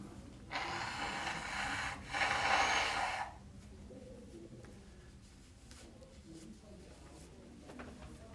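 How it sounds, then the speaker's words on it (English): Someone blowing their nose during a high school geometry quiz review: two loud, breathy honking blasts in quick succession, the second stronger, then faint rustling and quiet room noise. "I'm going to blow my nose"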